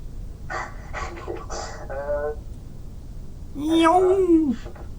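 A voice imitates a car speeding past at full speed, a rising then falling whooshing hum held for about a second, following a stretch of French speech.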